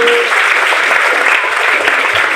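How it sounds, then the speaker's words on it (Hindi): Loud, sustained applause for Chanakya at a youth group gathering, many hands clapping hard and evenly from start to finish with no speech over it. "एक बार चाणक्य के लिए जोरदार तालियां बजा दो"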